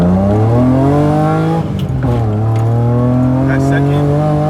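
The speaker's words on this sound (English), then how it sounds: "I'm rolling off in first, then I'm gonna just punch it." BMW E30 fitted with a limited-slip differential pulls hard from first gear, loud engine note climbing steadily, dipping briefly at a shift-like break near the middle, then rising again, close and continuous with no talk.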